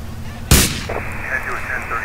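A gunshot fired from inside a vehicle in GTA, a single loud sharp blast with a short decaying tail over a steady low engine hum.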